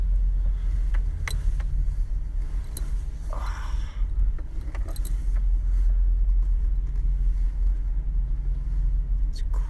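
A 15-passenger van drives through a tight parking garage, its engine giving a steady, loud low rumble throughout, with a few faint clicks and rattles from the cabin.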